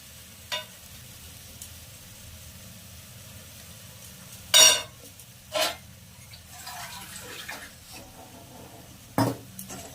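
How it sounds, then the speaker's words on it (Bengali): Tangra fish curry with mustard and tomato paste simmers under a faint steady sizzle while a spoon scrapes and knocks the pan a few times, the loudest clatter midway, close and without talk. "আর একটু ভালো করে নাড়িয়ে নিই।"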